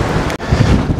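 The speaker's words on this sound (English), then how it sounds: "Windy out here" Steady wind buffeting the microphone on the deck of the Queen Mary 2 at sea, a constant low rumble with a brief dropout partway through, with a faint wash like water or surf behind it.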